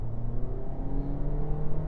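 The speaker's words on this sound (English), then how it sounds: "Here, I'll give it some gas here." A 2024 Toyota Corolla Cross compact SUV engine accelerating and revving under throttle, a steady droning whir that climbs gradually in pitch, loud and continuous from inside the cabin.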